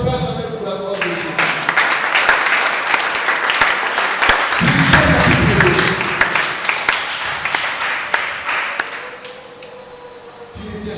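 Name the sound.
church congregation applauding for the glory of Jesus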